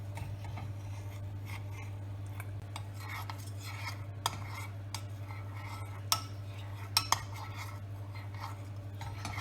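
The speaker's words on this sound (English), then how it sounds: "We keep mixing until it melts." A chocolate mixture is stirred in a pot until it melts, with soft scraping and occasional light clinks of a spoon against the pot over a steady low hum, close and quiet.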